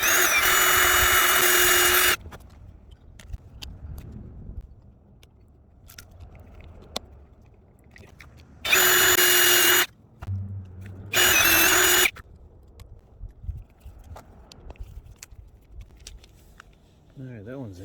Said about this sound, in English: looks like I'll have to drill it out